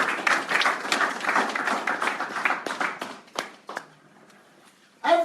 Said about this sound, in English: you go clap. You go clap.